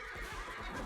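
A horse in the medieval combat game Chivalry 2 gives one short, loud, close neigh. It fills the whole brief moment and no other sounds compete with it.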